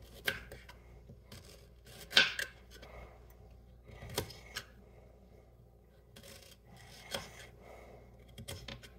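A knife cutting a cucumber on a board while mixing cocktails, giving a few sparse, close chopping knocks and soft scraping rubs spread over several seconds, with quiet gaps in between and no speech.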